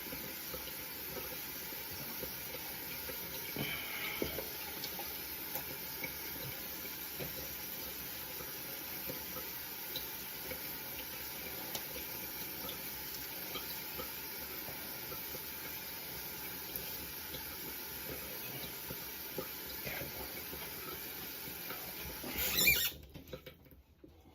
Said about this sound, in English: So now I'm going to wet my head.